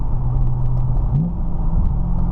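A BMW E92 M3 with a DCT gearbox cruises in seventh gear, a steady low engine drone with a slight pitch shift midway, heard from inside the car over road rumble.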